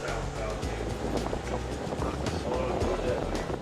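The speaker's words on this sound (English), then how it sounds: "So we're on board the little boat." A small boat moves down a river, its motor rumbling low and steady under wind and water noise at moderate volume.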